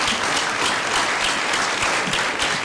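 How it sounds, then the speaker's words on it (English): Audience applause at the Bay Atlantic University commencement for the Class of 2022, a loud, continuous wash of many people clapping, dense and unbroken, with no voices over it. "so we applaud you"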